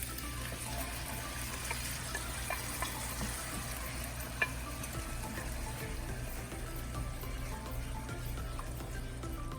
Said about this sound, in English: To this spiced paste, we're gonna add the tomato.